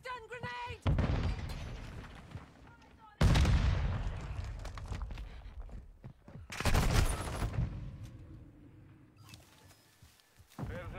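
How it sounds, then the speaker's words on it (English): Video game combat with a stun grenade and gunfire, sharp loud blasts and bursts of shots separated by quieter gaps, with a voice talking over parts of it. "Throwing a stun grenade."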